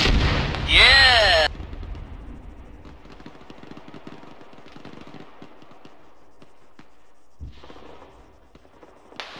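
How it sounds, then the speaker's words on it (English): Incoming mortar fire in a battle: a loud whistling descent ending in a heavy blast, followed by faint distant thuds and another impact later. "Those on the ridge fall back now, I've got mortars coming in."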